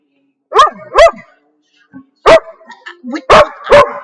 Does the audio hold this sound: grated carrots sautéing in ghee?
no